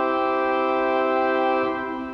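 Sustained pipe organ chord of 8, 4 and 2 foot diapasons with a twelfth mutation stop, bright and full in tone, held steadily and then beginning to fade near the end; no voices.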